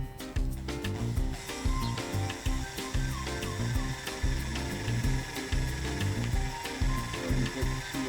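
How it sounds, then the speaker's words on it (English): A drill grinds steadily into a wooden kitchen countertop, boring a hole for a drinking water tap, up close, a dense, continuous rasping whir with small rhythmic catches, and no talking. "Right, now we're going to drill the hole for the drinking water tap, and Liam's got the set squares there to try"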